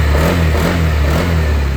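A motorcycle engine, just converted to keyless remote start, runs loud and close in a short burst, a steady rumbling idle with faint revving and slight mechanical clatter.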